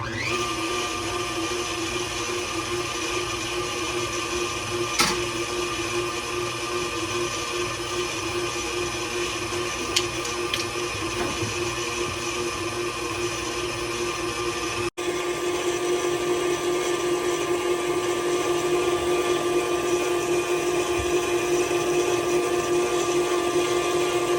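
An electric mixer running on high through butter, brown sugar and eggs, a steady loud whirring drone that holds for a long stretch with a slight shift partway through.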